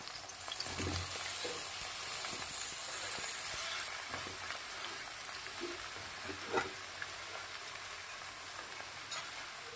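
Pieces of potol (pointed gourd) and pumpkin sizzle and crackle steadily in hot oil in a pan, while a spatula stirs them with soft scraping knocks over a continuous close frying hiss.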